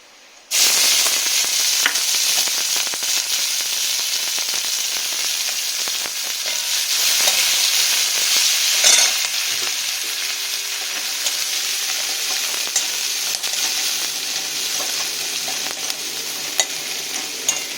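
Sliced chillies, chopped onion and garlic cloves sizzle loudly in hot oil, a dense steady crackle heard close up with occasional stirring and spatter and no talking.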